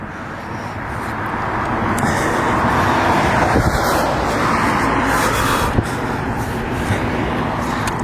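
A car rolls along a street below, a steady broad road rumble that swells and fades gently, heard from a distance while someone walks outdoors.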